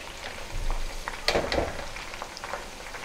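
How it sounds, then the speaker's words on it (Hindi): Okra sizzling in hot oil in a home kitchen pan while bhindi masala is prepared, a steady close frying hiss with a few brief clinks and stirring scrapes. "भिंडी को ज़्यादा फ्राई नहीं करेंगे, थोड़ा सा ही करेंगे।"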